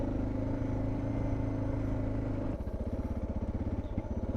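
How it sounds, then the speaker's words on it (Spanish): A motorcycle rides a sandy riverside trail in Sonora, Mexico. The engine holds a steady, close drone, then drops into a lower, chugging pulse as the revs ease off. "Cómo se mueve la moto."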